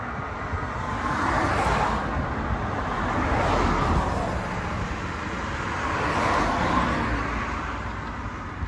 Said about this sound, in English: I'm gonna pull over and let all these cars behind me pass